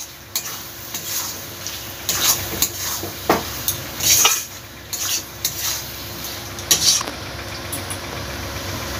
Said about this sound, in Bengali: দিয়ে মশলার সঙ্গে ভালোভাবে আলুটা মিশিয়ে নিতে হবে।